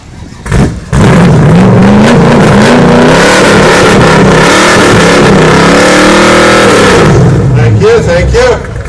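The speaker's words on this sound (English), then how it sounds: "We'll ask the Chevy to fire, the Cuda here to fire up again." A Plymouth Cuda fires up at an outdoor car show in Richmond, BC, its engine revving loudly and repeatedly with rising and falling pitch across the clip, amid crowd chatter and voices in the background.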